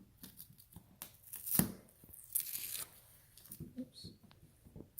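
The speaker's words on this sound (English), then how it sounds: "take off the tape carefully from your vehicle" Masking tape rips and peels in sharp tearing strips off the body of a Honda minivan, a few distinct pulls with softer crinkling between, close and fairly quiet.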